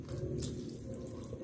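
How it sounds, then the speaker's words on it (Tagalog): Water pours into a cooking pot for kamias paksiw, a short, steady, soft splashing stream heard up close without any talking. "Lagyan ko na ng tubig."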